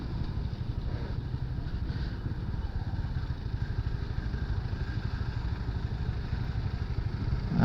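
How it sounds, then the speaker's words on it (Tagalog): A Honda Winner X 150 motorcycle revs hard at high RPM, its exhaust giving a steady, rapid, buzzing drone that stays loud and continuous from start to finish, with no talking. "Sarap pakinggan ang tunog ng tambutso niya."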